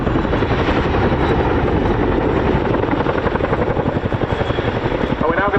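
A Chinook helicopter hovers at an air show, its twin rotors chopping in a loud, steady rhythmic beat close by. The pulsing grows more pronounced toward the end.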